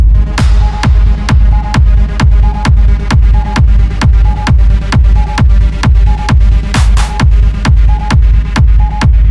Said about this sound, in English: we have a modulation plug-in here for stutter